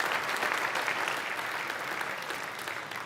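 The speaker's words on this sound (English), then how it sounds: "So please, a round of applause for all of our commercial," Applause from the audience at a basketball league awards night, a thick, continuous roar of many hands clapping at an even level throughout, with no pauses.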